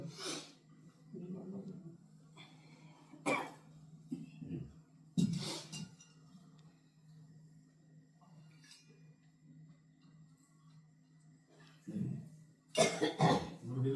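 Several sharp coughs in short bursts, caused by smoke from a hawan fire ritual, spread across the stretch, with quiet talk and a steady low hum between them.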